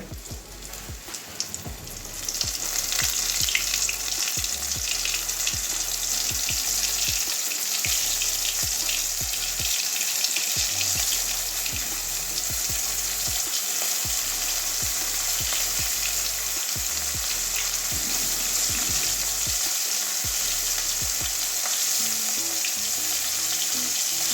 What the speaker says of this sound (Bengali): যেভাবে মাখিয়ে নিয়েছি এবারে ভেজে নেব তাহলে গোটা গোটা থাকবে